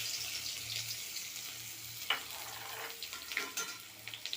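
Onion pieces hit hot oil with cinnamon and clove for an egg curry tempering, a crackling sizzle with sharp pops and a few clinks of a spoon, close and moderately loud.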